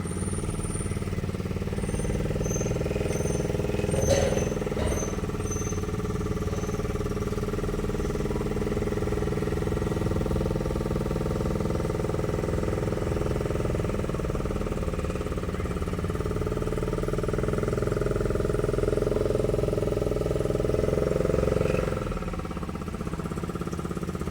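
A boat engine drones steadily beneath passengers riding inside the boat on a scenic trip, a loud, constant mid-low rumble with a couple of brief knocks, no talk heard.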